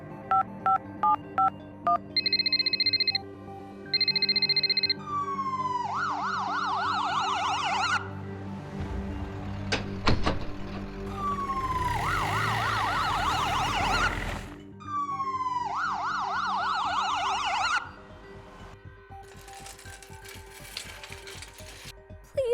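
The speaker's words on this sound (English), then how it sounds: "I'll call an ambulance right away." An ambulance siren in the Roblox game Brookhaven wails in rising and falling sweeps, twice, between phone dialing beeps and other game sound effects, with no talking.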